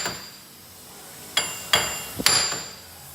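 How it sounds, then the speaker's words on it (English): Hammer striking a wheel bearing on a 2013 Ford Taurus during repair: four sharp metallic whacks in an uneven rhythm, each ringing briefly, close and fairly loud with no talk. "I've been whacking it with a hammer,"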